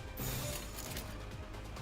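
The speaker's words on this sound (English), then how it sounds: "I think you can hear my laptop fan in the background." Steady broadband whir of a laptop cooling fan sitting right beside the microphone, a continuous airy hiss with faint mechanical rattling and no voices.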